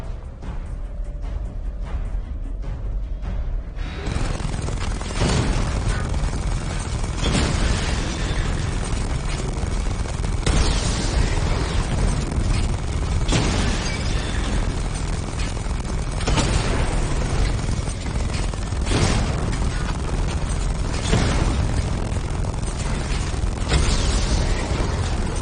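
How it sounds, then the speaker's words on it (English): Missile barrage explosions in Batman Arkham Knight, a run of loud, deep booms and blasts landing every few seconds over a constant rumbling roar, close and with no talk. "Charge up missile barrage to level 2 and destroy 4 active targets to complete diagnostic test"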